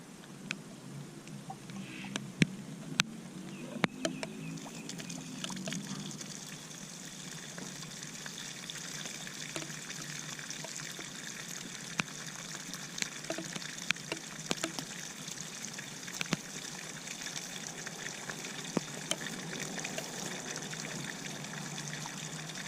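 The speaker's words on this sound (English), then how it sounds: "I'm going to turn the tap on" Tap water runs through a garden hose into the cooling system of a Honda CBR250R MC19 motorcycle, a soft continuous trickle with scattered small splashes and drips, fairly faint and steady.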